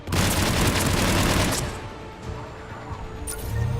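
A mounted gun fires from the enemy side in a video game, a loud, rapid burst of automatic fire lasting over a second, then quieter battle noise and a brief second burst near the end.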